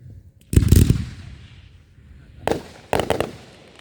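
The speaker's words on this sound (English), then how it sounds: "To honor their ultimate sacrifice, we will have a 21-gun salute followed by taps" Rifle volley of a 21-gun salute at a memorial ceremony: sharp cracks of gunfire, one volley followed by two more separated by short pauses, heard from a moderate distance outdoors.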